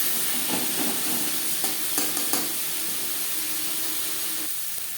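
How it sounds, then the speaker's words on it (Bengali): Onion and tomato frying in oil in a pan for fish egg curry, a continuous close sizzle and hiss with a few stirring scrapes and clicks; no speech. "তিন চার মিনিট পেঁয়াজ টমেটো ভেজে নেওয়ার পর"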